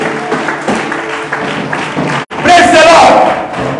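A church congregation claps and cheers in a loud burst of applause that swells after a short break, mixed with voices.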